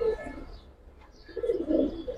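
A pigeon coos twice up close, a soft throaty call at the start and a longer, louder one near the end, with a quiet gap between.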